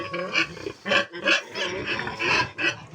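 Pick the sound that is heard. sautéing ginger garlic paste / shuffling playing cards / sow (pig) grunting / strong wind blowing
sow (pig) grunting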